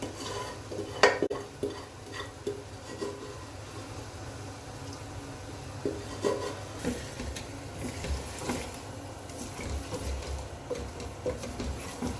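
Mutton pieces are tipped into a pan and stirred with a utensil for a Deeghi Palak Gosht, giving repeated scraping and clinking over a faint sizzle. Nobody speaks.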